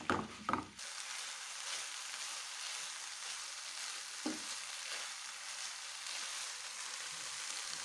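A lentil kofta mixture is stirred in a pan for a meatless fish-style pastilla filling, giving a soft, even sizzle with a couple of louder spoon scrapes at the start and one brief clack midway, quiet and close.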